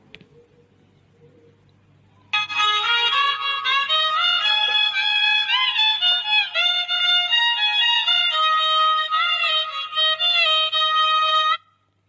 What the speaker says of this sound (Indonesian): ini suara alat musik tehyan